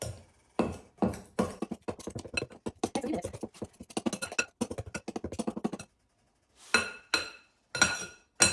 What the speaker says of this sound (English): Just make it look like small peas.